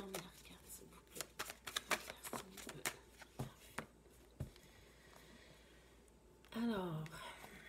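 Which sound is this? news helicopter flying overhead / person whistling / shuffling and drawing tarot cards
shuffling and drawing tarot cards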